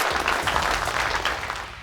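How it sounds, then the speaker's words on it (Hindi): An audience at a contest in a TV sitcom breaks into loud, dense clapping from many hands, a brief continuous burst heard close and without talk. "जोरदार तालियां हो जाए इनके लिए गाइस"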